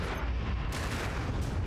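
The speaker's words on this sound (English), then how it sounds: "Incoming missile." Dense, continuous rumbling bursts of missile fire and explosions from a MechWarrior 5: Mercenaries battle between mechs, loud and sustained with no pauses and no voices over it.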